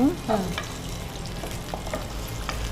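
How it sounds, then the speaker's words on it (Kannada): A small onion frying in hot oil in a pan, a dense continuous sizzle with light stirring scrapes, close and fairly loud throughout with no talk. "ಈರುಳ್ಳಿ ಹಾಕ್ತೇನೆ, ಒಂದು ಸಣ್ಣ ಈರುಳ್ಳಿ. ಇದು ಸ್ವಲ್ಪ ಫ್ರೈ ಆಗಬೇಕು."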